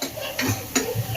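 A ladle stirs kankoda (spiny gourd) curry with turmeric and salt in a pan, giving two quick scraping clinks against a faint sizzle, close and brief.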